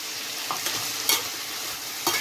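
Tomatoes going into a pan of brinjal and potato curry, with a steady low frying sizzle and a few soft stirring scrapes and clinks against the pan, close and moderately quiet, no talking.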